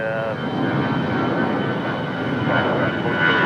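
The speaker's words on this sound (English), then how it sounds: "Oh no, this is our A319 with nobody on board. Expect this one to be a rocket." An American Airlines Airbus A319 jet with no passengers on board rolls for takeoff at Raleigh-Durham International Airport, its engines producing a loud, steady roar that holds throughout.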